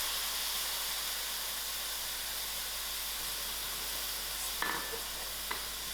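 Grated tomatoes sizzle in a hot pan of spicy Durban-style patha fish curry, a steady broad frying hiss throughout with a couple of brief clinks near the end, no voices.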